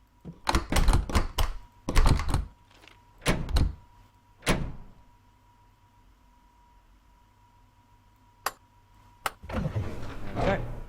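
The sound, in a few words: train doors unlocking and opening, Train Sim World 2 video game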